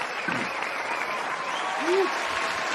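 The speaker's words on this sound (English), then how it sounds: "Listen to that crowd." Studio audience applauding and cheering for a show's hosts, a steady wash of clapping with a brief whoop rising above it.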